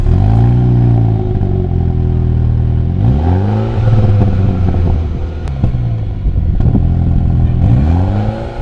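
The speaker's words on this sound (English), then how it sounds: "It rumbles a low gurgle initially, which turns into an angry yet joyful scream as you open up the throttle." A 2019 MINI John Cooper Works engine with dual exhaust rumbles and revs repeatedly on a track, pitch rising and falling in several loud, close bursts of acceleration.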